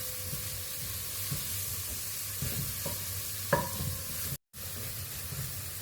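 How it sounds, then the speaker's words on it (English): Chopped onions and garlic are stirred in a sizzling pan, giving a steady hiss with soft scraping strokes and a clink of the spoon, then a brief dropout before the sizzle resumes. "Stir, stir, stir to release the fragrance as well"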